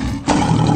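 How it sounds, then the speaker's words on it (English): Lion roar, a loud close deep growling roar that swells in suddenly after a brief quieter rumble and holds strong to the end, alone with no talking. "And the next one is the lion, the king of jungle."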